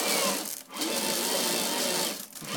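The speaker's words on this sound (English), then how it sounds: "This is the 350 RPM model of the motor." A Pololu 350 RPM gearmotor spinning a dome drive rocker makes a close, steady mechanical whir with a buzzing gear tone, briefly dipping twice as the load shifts.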